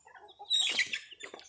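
A White Rhode Island hen gives a brief, faint cluck, rising once and trailing off quickly in quiet surroundings.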